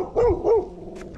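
A dog gives two quick barks at cyclists on a rural road near Gainesville, Texas, close and moderately loud, followed by faint background noise.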